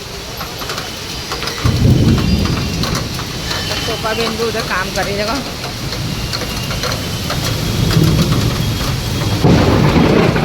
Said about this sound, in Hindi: बारिश तो क्या गिर रही है बाप रे बाप बिजली भी देखो ना